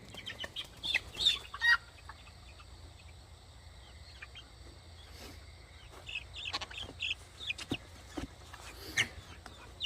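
Chickens cluck softly in a pen at roosting time, with scattered short calls near and far over a steady background of chirping crickets.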